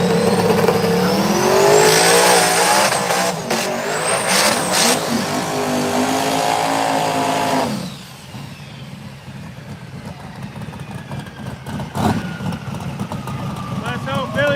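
Drag race cars launching at a no prep small tire and true street event, loud engine roar and revving that sweeps upward for about eight seconds and then fades into distant engine noise under crowd and announcer chatter.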